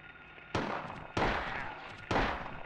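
A handgun fires three sharp shots in the horror game Silent Hill, spaced roughly half a second to a second apart, each with a short ringing tail over a low ambient hum.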